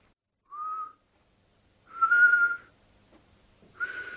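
A broken tooth whistles with each breath, one faint short whistle followed by two louder ones, close and alone against silence.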